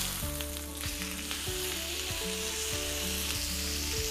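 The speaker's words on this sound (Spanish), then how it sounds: "La idea del sellado es que se haga una costra por los bordes de la carne" Beef sears in a frying pan with olive oil, oregano and pepper, giving a loud steady sizzle with crackling spatter. A repeating tonal chime pattern plays underneath throughout.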